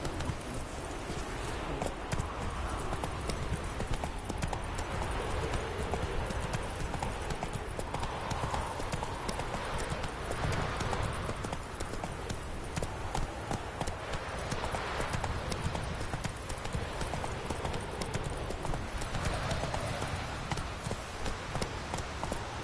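Roach, a horse in the video game Witcher 3, gallops with steady, rapid hoofbeats clip-clopping loudly and continuously over dense game ambience, with no speech.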